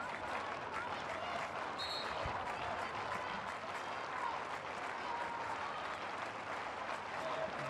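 A large crowd applauds steadily at a women's hockey semi-final between New Zealand and Australia, a dense, even wash of clapping that holds throughout without letting up.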